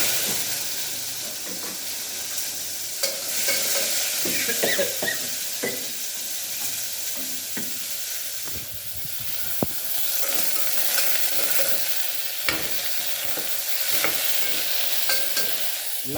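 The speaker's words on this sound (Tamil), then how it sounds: "தக்காளி கத்திரிக்காய் போட்டு வணக்கிட்டோம்" Tomato and brinjal sauté in a pan: a steady hiss of frying broken by repeated scraping and clacking stirs of a utensil against the pan, fairly close.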